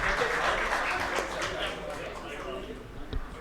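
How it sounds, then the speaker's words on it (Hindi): Audience applause at a Hindi-language stage event honouring Pankaj Goyal, a dense steady wash of clapping that carries straight through and slowly thins toward the end, with a brief sharper burst near the close. "श्री पंकज गोयल जी के लिए भी तालियां बजनी चाहिए।"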